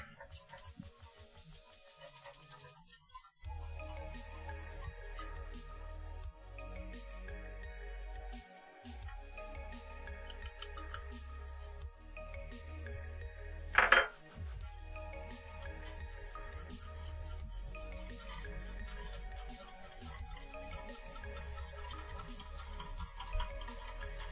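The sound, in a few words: whisking batter in a bowl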